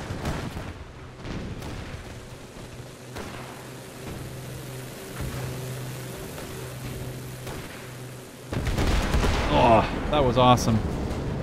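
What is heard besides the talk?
500 bomb dropping and exploding in video game Gates of Hell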